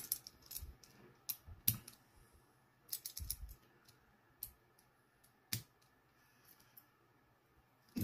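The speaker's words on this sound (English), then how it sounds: "the two pins clicking into the back of the grooves on the case back" Small sharp clicks and light pops of a watch case back's pins seating into grooves, scattered across a quiet background, a few louder snaps standing out among faint ticking, close and crisp.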